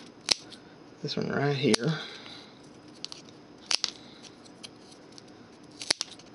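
Cactus stems being cut for a prickly centerpiece, a few sharp snipping clicks spaced across the moment, with a person speaking briefly over them.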